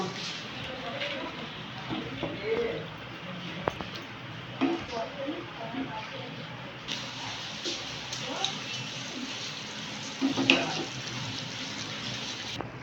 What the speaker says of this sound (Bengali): দেবো অল্প জল ডিম পুরিগুলো দিয়ে দেবো